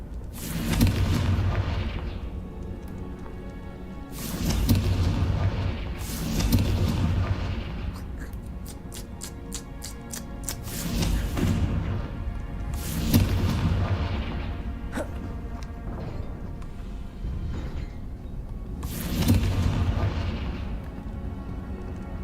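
Confringo blasting spells in Hogwarts Legacy explode again and again, about seven heavy booms spaced a few seconds apart, each with a rumbling tail, mixed with game effects and a quick rattling flurry in between.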